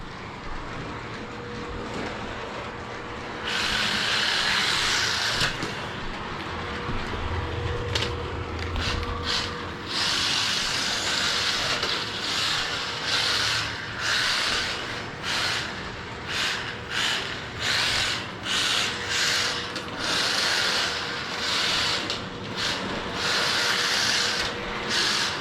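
A 1/43 scale RC car drifting and power-sliding around an indoor track gives a steady high whine that rises and falls in quick pulses as it accelerates and slides, loud and continuous for the whole stretch, with no voices.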